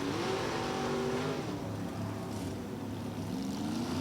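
A 1963 Corvette drag race car with a 598 cubic inch engine roars loudly at full throttle down the strip, its engine note climbing and shifting as it accelerates away at a drag race event.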